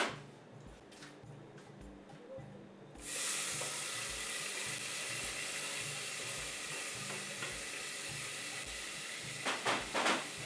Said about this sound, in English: We put some olive oil in our pan.